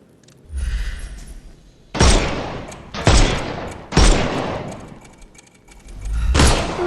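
Gunshots from the Sherlock Holmes Chapter One video game: four loud, close blasts in roughly even succession, each with a sharp crack and a decaying tail, then a fifth swelling at the end, with no talk.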